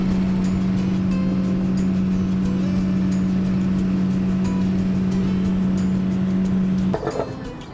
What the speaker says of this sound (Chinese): 要坐个小船到湖中心的蟹农小屋